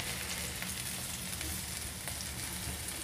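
Rus (toast) fries in a pan over a low flame, giving a steady, dense sizzle that runs continuously and evenly with no voices.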